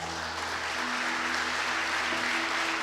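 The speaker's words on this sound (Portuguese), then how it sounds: "Quem pode dar uma salva de palmas para o Senhor?" A church congregation claps together in a steady, fairly quiet burst of applause, many hands blending into an even wash with a faint low hum underneath.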